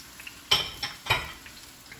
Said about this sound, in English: now we want to add all our onions, all of our garlic.